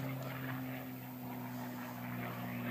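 An aerobatic propeller plane at an air show drones steadily with a sustained, fairly loud engine tone that rises and falls slightly as it maneuvers, with no voices.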